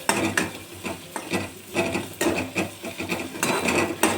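A utensil scrapes and stirs chopped onion through a thick paneer paratha filling in a pan, producing repeated rhythmic scraping strokes close up.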